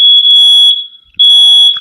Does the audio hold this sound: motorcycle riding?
no